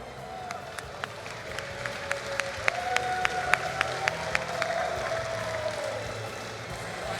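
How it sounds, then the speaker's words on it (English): An audience at a Super Smash Bros. Ultimate live tournament in London gives a round of applause, scattered sharp claps over a crowd murmur, with a faint cheer or whistle threading through. "Give them a big round of applause."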